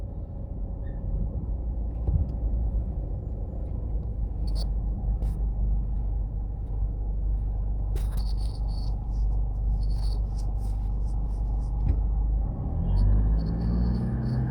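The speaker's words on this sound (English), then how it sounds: "so that will give you an idea of what the traffic is like" Saturday late-afternoon street traffic at Stony Hill Square, Jamaica: a steady low rumble of passing cars and vehicles fills the whole stretch, with occasional higher scrapes and a vehicle swelling closer near the end, no talk.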